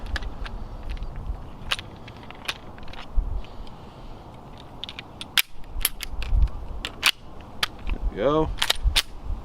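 A Taurus G3C pistol fires S&B 115 grain ball ammunition at a range, a string of sharp, loud reports spaced irregularly over several seconds, with a brief spoken remark near the end.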